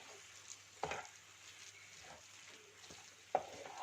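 Brinjal rice masala fries in oil, a faint, quiet sizzle with a few soft stirring clatters and scrapes of a spoon in the pan.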